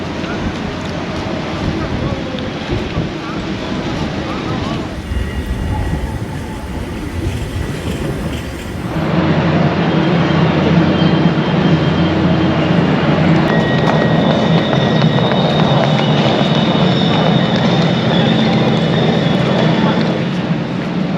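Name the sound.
train at a railway station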